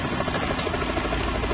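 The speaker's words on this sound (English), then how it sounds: "Is that a chopper I just heard?" Helicopter approaching in the Metal Gear Solid 2 video game, a steady dense rotor and engine rumble filling the scene, moderately loud with no talking.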